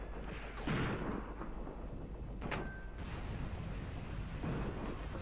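Mortar rounds fired in the WWII tactics game Graviteam Tactics, set around Kharkov in 1942: three muffled, distant booms at a steady spacing, with a continuous low battlefield rumble between them.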